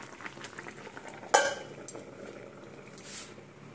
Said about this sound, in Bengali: এবারে এটা ফুটুক